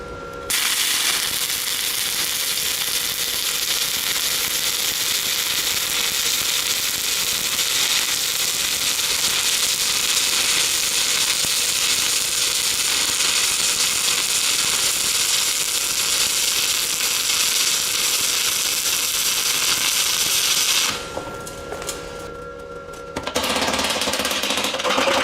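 An SIP Autoplus 130 dual process welder laying a weld on metal, a loud steady crackling sizzle lasting over twenty seconds, with a short pause near the end before the arc restarts.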